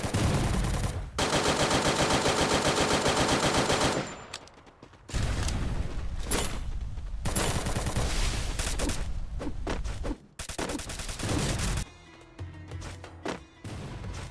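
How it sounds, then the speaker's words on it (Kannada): Gunfire in the Free Fire battle royale video game: long bursts of rapid automatic shots blasting a vehicle, broken by short pauses and a few single loud shots, dense and close throughout. "ನಾವು ನಮ್ಮ ಟೀಮೇಟ್ಸ್ ಎಲ್ಲ ಸೇರಿ ಗಾಡಿನೆಲ್ಲ ಬ್ಲಾಸ್ಟ್ ಮಾಡಾಕತ್ತೀವಿ"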